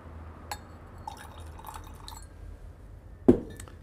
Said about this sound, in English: but when we add the water